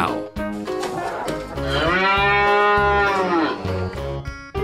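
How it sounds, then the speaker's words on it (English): A cow moos once, a long, loud, drawn-out low bellow, heard close over a light rhythmic music backing. "Cow."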